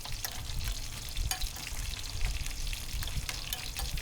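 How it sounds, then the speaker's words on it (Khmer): A fish sauce mixture with herbs being stirred in a bowl, continuous wet clicking and sloshing with scattered sharp taps of the utensil, close and moderately loud with no one speaking. "យើងធ្វើការកូរវាឲ្យវាសព្វឲ្យវាចូលជាតិ"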